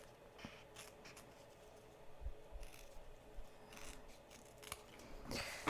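Scissors trimming embroidery applique fabric close to the stitched thread, with soft snipping and rubbing of blades on cloth, quiet and close, a few cuts spread over several seconds.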